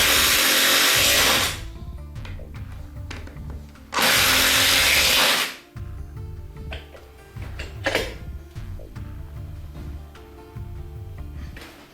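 Power drill driving screws into wood battens: two loud, sustained motor whines, each a couple of seconds long, separated and followed by quieter rattling and handling knocks from the woodwork.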